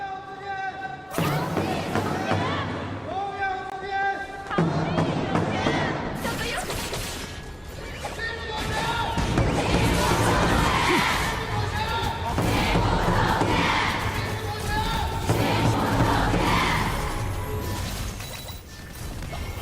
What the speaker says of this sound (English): we will hear the fans cheer for both teams